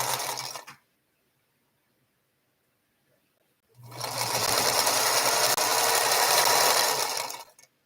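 A sewing machine stitching quilt blocks runs in two bursts, a short one at the start and a longer steady whir after a pause of near silence, close and loud with no talk.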